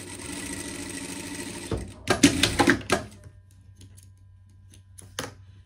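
A sewing machine stitches a seam on a dress, a steady mechanical whir with a few louder bursts of running stitches near the middle, then quieter before a brief final burst.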